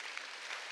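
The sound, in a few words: congregation applauding in church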